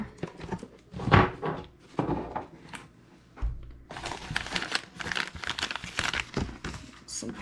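Packaging from a mailed box crinkles and rustles in bursts as it is pulled out and handled up close, with a louder crunch early on and denser crinkling later. No one speaks.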